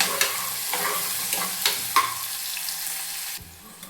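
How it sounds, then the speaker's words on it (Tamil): Onion, dried red chilli and curry leaves hit a pan of popped mustard seeds for brinjal poriyal, giving a loud sustained sizzle with a few stirring knocks before it fades. "கடுகு இந்தளவு பொரிஞ்சதும் வெங்காயம், வரமிளகாய், கருவேப்பிலை போட்டுக்கலாங்க."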